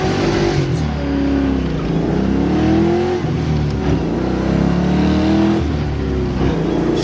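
A Ford Mustang engine making about 180 horsepower revs hard toward redline, its loud, close roar climbing in pitch, dipping briefly and rising again over several seconds.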